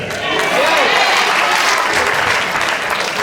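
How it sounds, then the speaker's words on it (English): A theater audience at a live magic show bursts into wild, thunderous applause with cheering, a dense continuous roar of clapping that holds steady throughout. "let your hands fly into wild and thunderous applause"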